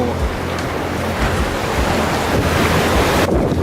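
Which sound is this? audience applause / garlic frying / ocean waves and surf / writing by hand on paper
ocean waves and surf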